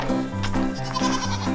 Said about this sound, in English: What do I do with the goat?